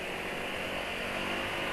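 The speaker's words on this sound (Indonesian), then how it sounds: "setelah Inrayen itu suara mesin halus ya" A motorcycle engine runs steadily after its break-in period, giving a continuous, fairly smooth close-up drone with no talking.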